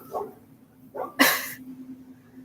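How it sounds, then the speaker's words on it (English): Dogs bark from across the street, a few scattered barks heard at a distance indoors, with one sharper, louder bark standing out against a faint steady hum. "there's dogs barking across the street"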